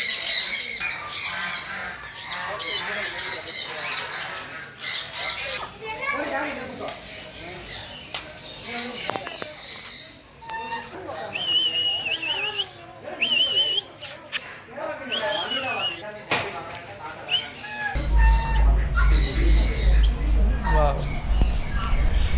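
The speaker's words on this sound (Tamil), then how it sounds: "வான் கோழி இருக்குது சேவல் இருக்குது கருப்பு கோழி இருக்குது நாட்டுக்கோழி இருக்குது" Turkeys, roosters and chickens in a theme park aviary at VGP Universal Kingdom honk, squawk and cluck in busy overlapping bursts, with people talking nearby.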